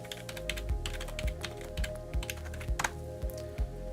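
A hostname or IP address is typed on a computer keyboard as a run of quick, close, distinct key taps in an uneven rhythm, with no other sounds.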